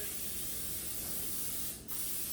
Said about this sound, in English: you're going to want to make sure you spray it liberally